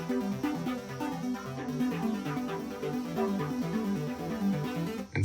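Bouncy, happy arpeggiated music stem with steady repeating note patterns over sustained chords, playing continuously at moderate loudness with no talking.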